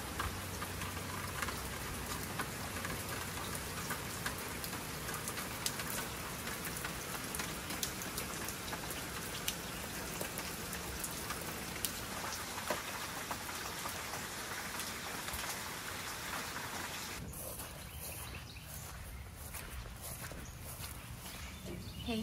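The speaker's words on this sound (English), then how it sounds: "these guys love the rain, don't you?" Steady, heavy rain pours down on a poultry farm during a very wet summer, a dense continuous hiss of drops on surfaces, with occasional nearby footstep-like knocks and no talking.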